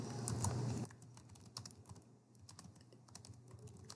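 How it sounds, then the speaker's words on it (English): Typing on a computer keyboard to enter comments, soft quick key clicks in an irregular patter after a brief louder burst of noise at the start. "I can also type in comments by clicking the comment button."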